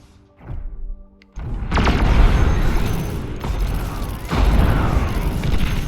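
In the Beyond All Reason strategy game, an army of sniper units fires on Titans, producing heavy booming shots and mechanical clanks that overlap into a dense, loud barrage after a short quieter lead-in.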